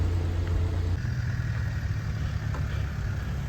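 Cars idling in a queue at the Montenegro-Croatia border: a low, steady engine rumble fills the whole stretch without pause, with no talking.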